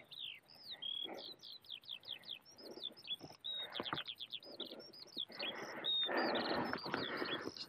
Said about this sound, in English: Skylark, maybe?